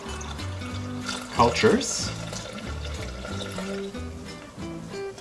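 Warm water pours into a bowl set on a kitchen scale while sourdough is mixed, a brief splashing rush rising over steady talk and a low background drone.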